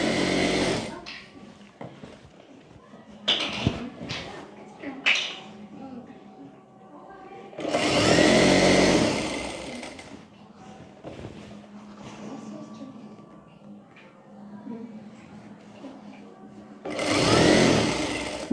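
Electric sewing machine stitching a folded scarf section of a kurti, several loud whirring bursts of rapid stitching separated by quieter handling noises, with someone talking between runs.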